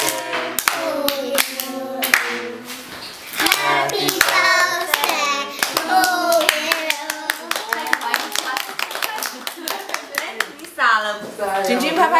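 A child claps hands at a birthday candle-blowing, with a run of quick, irregular claps mixed with an adult's sing-song voice and children's chatter throughout.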